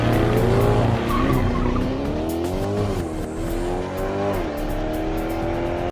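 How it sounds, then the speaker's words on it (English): Chevrolet C8 Corvette doing a smoky burnout, loud continuous tire squeal over a revving engine that holds steady, close and alone with no talk. "release the brake, release the clutches, you're getting a big old smoky burnout"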